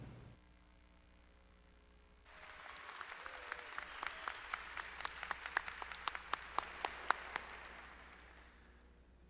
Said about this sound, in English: I also want to take a moment for us to give a round of applause to us, the class of 2020